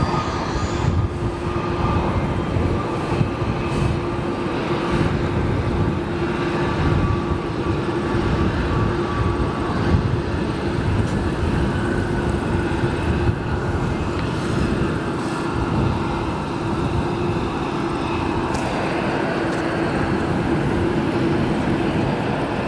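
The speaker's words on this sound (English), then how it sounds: "Got all sorts of aircrafts taxiing through the penalty box as we speak, as well as another arrival on runway 28 center." Jet aircraft taxi and arrive at O'Hare Airport, a steady distant engine roar and whine filling the air continuously for over twenty seconds with no voices.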